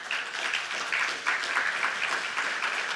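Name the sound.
audience applause at conference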